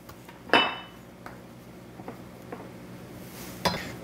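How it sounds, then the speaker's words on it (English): Diced onion is scooped into a blender, with one clear clink of utensil against the jar, a few soft taps and scrapes, and a second clink near the end, close by with no speech. "So I'm going to scoop these into the blender and try not to drop too much."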